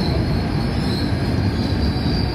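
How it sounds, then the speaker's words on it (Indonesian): A 10-car KRL commuter train bound for Jakarta Kota runs through Cikini station in Jakarta on a morning, with a loud, continuous rumble of railcars and wheels and a steady high squeal from the wheels on the rails, close by. "Perhatikan jalur 1 KRL komuter tujuan stasiun Jakarta Kota sebagai KA1075."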